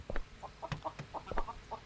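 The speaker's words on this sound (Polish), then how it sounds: "weź pan ucisz te kury, bo już mnie wkurwiają" Chickens in Contraband Police cluck in a quick, uneven series of short, close bursts at moderate volume with no talk over them.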